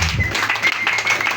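Applause during a church service, a dense, steady wash of many hands clapping heard from the congregation across the whole moment, with no pause.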